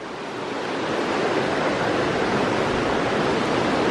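Broad, steady rush of a flowing river at Croston village swells in and holds constant, close and fairly loud, with no voices.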